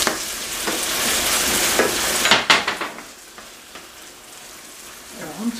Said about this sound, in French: on va laisser encore à feu moyen mijoter un petit peu